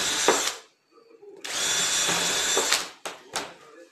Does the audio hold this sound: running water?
no